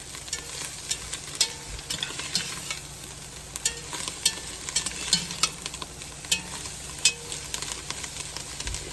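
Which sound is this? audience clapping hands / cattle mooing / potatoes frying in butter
potatoes frying in butter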